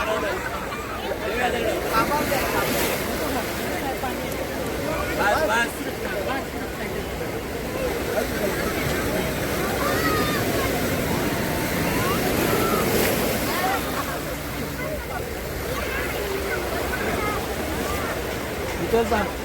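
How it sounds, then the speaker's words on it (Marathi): Sea waves wash onto Nagaon beach in Uran, a steady broad roar of surf with wind across the microphone, fairly loud and continuous, with faint crowd babble in the background. "लाटांचा आवाज आपण बघू शकतोय सुंदर असा समुद्रकिनारा"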